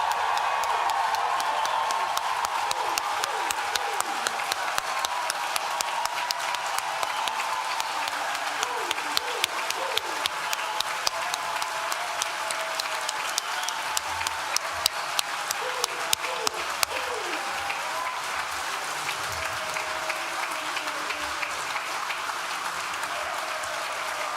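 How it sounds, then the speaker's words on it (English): A large audience at a Nottingham Law School graduation ceremony gives one last sustained round of applause, dense clapping with scattered whoops and cheers rising from the crowd throughout. "One last round of applause."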